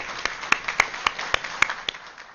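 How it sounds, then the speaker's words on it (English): Courtroom applause for military veterans at a criminal trial: a short, sparse round of separate hand claps, a few people clapping at moderate distance in a quiet room. "I think we give a round of applause to the people who've served our country."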